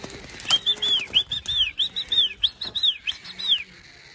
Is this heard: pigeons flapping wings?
yes